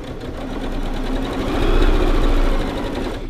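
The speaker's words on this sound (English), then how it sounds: "I went a little bit too far, so I'm just going to back a stitch" A sewing machine back-stitches a cloth napkin with a steady, fast mechanical whir that swells slightly midway and runs continuously, close and without talk.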